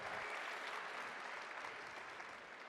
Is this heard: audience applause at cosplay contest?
yes